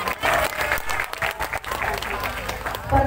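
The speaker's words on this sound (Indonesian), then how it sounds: "Tepuk tangannya mana dong?" An audience claps in scattered, uneven bursts at moderate volume, a short patter of hands with some voices mixed in underneath.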